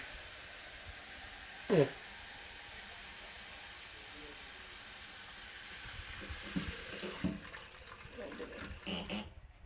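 Water runs from a tap into a pot with a steady hiss, fairly quiet, with a brief clunk early on and soft handling noises toward the end.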